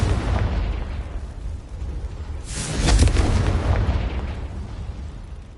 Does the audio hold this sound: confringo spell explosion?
yes